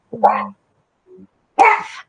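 An elderly female dog with dementia barks, giving two short, sharp, close barks about a second and a half apart with a soft low whimper between them, in an otherwise quiet indoor setting.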